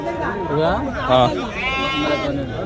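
Sheep bleat several times close by, with wavering calls overlapping one another, at the Angallu Saturday sheep market, while people talk nearby.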